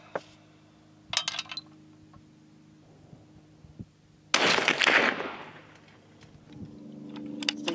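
A 30-06 rifle firing a cast powder-coated load gives one sharp, loud report that decays over about a second, with quieter clicks and a steady low hum before and after.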